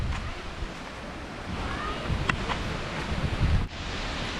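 Wind gusting at a stone fort site in Hampi in early afternoon, a steady rumbling buffet of air on the microphone with soft rustling, no talk.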